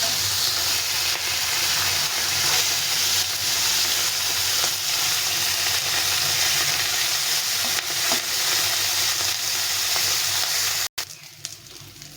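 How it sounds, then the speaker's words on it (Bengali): Tengra fish fry in hot oil with a loud, steady sizzle and hiss that runs unbroken for about eleven seconds, then cuts off abruptly and leaves only faint scattered crackles. "মাছগুলো সব ভেজে নিলাম উল্টে পাল্টে"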